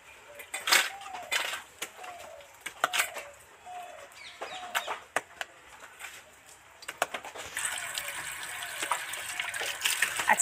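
Water pours and splashes while mud crabs from the Sundarbans are washed in a basin, irregular gushes and clatters, with hens clucking nearby in the background.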